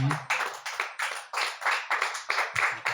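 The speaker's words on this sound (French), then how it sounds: "Nous allons applaudir pour lui" Several people clap together during a church teaching session, with quick sharp claps falling in loose bursts and uneven rhythm, nearby and fairly quiet.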